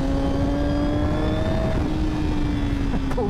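A 2024 Honda Fireblade motorcycle engine hums at a steady, loud pitch while the rider blips the throttle, the revs dipping and rising briefly near the end.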